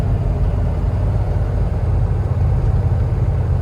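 A 1988 short-wheelbase Range Rover Classic engine runs loud and close, holding a steady, deep, rumbling drone with little change in pitch throughout.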